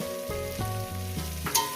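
Eggplant pieces fry in a pan for a vegetable chorchori with rohu fish head, a steady close sizzle heard under soft background music with no talk.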